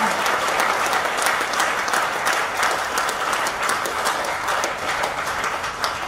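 Loud, sustained applause from an audience at a company meeting in Lucknow, a thick continuous patter of many hands clapping close by, unbroken for several seconds with no talking.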